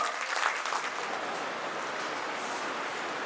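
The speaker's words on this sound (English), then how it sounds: "can we please have a huge round of applause for her?" Steady audience applause fills a preschool annual day function in honour of the principal, a dense wash of many hands clapping at even volume, with no talk over it.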